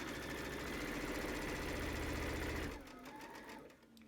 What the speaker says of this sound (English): We're going to sew around the entire perimeter of our pillowcase.